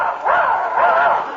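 A voice imitates a dog, giving two drawn-out, yelping bow-wow barks in a row, close and clear, in an old 1945 radio comedy broadcast.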